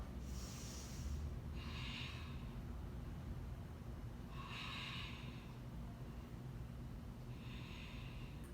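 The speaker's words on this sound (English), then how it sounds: "5 rounds of breath here. Deepen your breath." Slow, deep breathing during a yoga class, four long airy breaths spaced a couple of seconds apart, close and steady over a constant low room hum.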